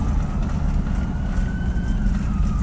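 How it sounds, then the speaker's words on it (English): An ambulance siren wails ahead on the road, heard from inside a moving vehicle, its tone faint and steady under loud rumbling road noise. "I got an ambulance coming by here."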